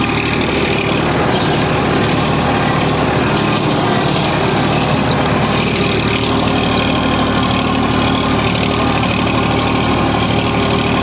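Massey Ferguson tractor ploughing a field, its diesel engine a loud, constant close-up roar with dense mechanical rumble that holds steady for the whole stretch.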